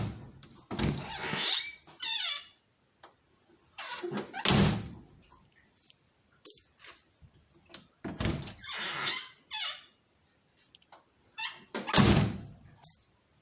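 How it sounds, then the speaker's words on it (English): Door of a Model A Ford opened and shut several times, giving solid thunks and short squeaks from the hinges, loud and close, with quiet gaps between each movement. "door on the Model A Ford. When you open it up, hear that?"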